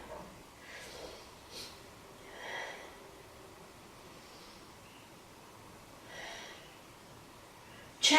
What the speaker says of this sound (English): So let's take 3 big breaths here.